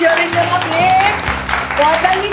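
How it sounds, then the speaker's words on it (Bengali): An audience claps for contestants at a family game show held in a jewellery store, a short burst of applause with a voice talking over it. "সকলে ওনাদের জন্য একটা হাততালি দিয়ে দিই"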